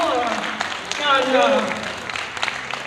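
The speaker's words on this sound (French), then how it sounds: "Applaudissez-la." Audience applause at a charity event, a continuous clapping wash with a speaker's voice audible over it, the applause swelling slightly in the middle before tapering.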